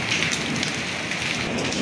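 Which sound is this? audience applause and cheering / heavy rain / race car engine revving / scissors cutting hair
heavy rain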